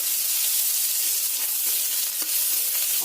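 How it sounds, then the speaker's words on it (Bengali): Chopped onions fry in hot mustard oil with nigella seeds, giving a loud, dense, continuous close sizzle that holds steady throughout with a faint scrape, no talking. "তেল কিন্তু গরম হয়ে গেছে এতে দিয়ে দিতে হবে কালো জিরে ফোড়ন দিয়ে দিতে হবে কুচিয়ে রাখা পেঁয়াজ"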